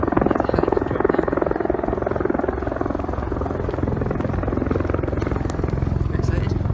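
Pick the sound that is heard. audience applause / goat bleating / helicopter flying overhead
helicopter flying overhead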